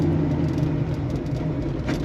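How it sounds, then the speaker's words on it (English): A big block Chevrolet Nova with a 4-speed manual gives a steady, low, dense engine rumble as it is given a bit more gas, heard from close by with no talk. "You see I'm kind of giving it a little bit more gas."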